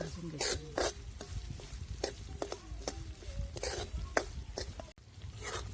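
Besan flour being roasted in ghee and stirred in a pan for barfi, with repeated scraping strokes and clinks of the spoon against the metal over a soft sizzle, fairly quiet and close.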